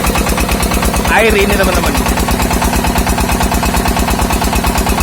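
A Niagara 6-inch water pump's engine runs steadily while irrigating a corn field from a bore well, a loud, rapid, even thumping that goes on throughout as someone talks over it.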